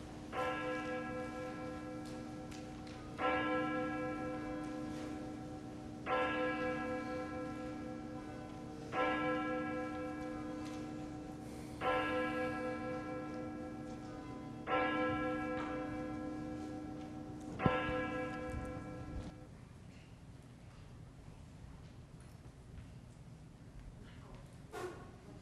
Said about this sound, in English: listen now to the tolling of our church bell